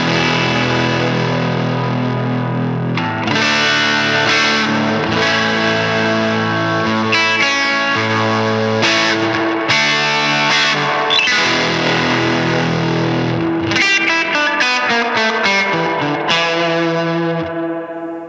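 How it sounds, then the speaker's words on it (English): An electric guitar through a Fender Tone Master Princeton Reverb amp plays twangy surf riffs and chords drenched in deep, splashy reverb, loud and continuous with a wet, echoing tail. "if we need to get that classic surf tone"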